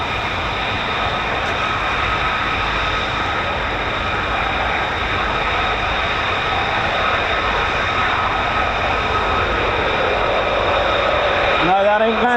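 A military jet over RAF Lakenheath, home of the 48th Fighter Wing flying F-15s and F-35s, makes a loud continuous roar that holds steady throughout and swells slightly toward the end.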